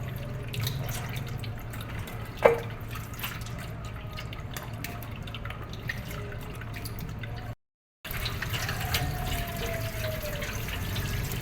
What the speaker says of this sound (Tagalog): Kailangan hugasan natin ng maayos mga idol.